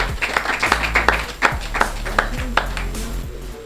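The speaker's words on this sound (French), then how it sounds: "on peut applaudir pour elle déjà" An audience at a contestant's beauty pageant make-up challenge claps in scattered, uneven bursts, fairly close, with sharp individual claps standing out over a low room background.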